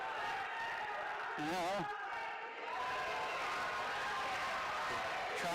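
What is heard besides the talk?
wrestling crowd cheering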